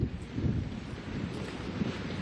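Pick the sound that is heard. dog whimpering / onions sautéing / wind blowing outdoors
wind blowing outdoors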